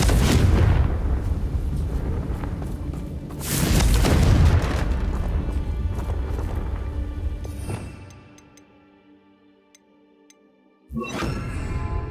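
Confringo explosion spell in Hogwarts Legacy: loud, close booming blasts with rumbling tails, fading into near quiet with faint tones before another sudden burst near the end.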